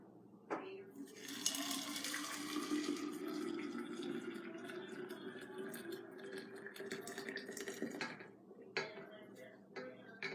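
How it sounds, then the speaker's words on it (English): Water poured from a container onto herbs in a jar for herbal tea: a steady, close splashing and gurgling stream lasting several seconds, with light clinks of glass at the start and end. "So now we'll pour this in onto the herbs."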